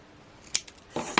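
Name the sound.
scissors snipping while making a card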